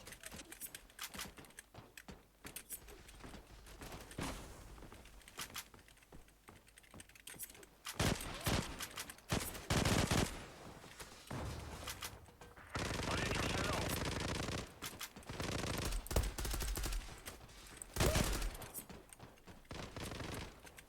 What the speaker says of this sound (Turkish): Çok fazla silah sesi var.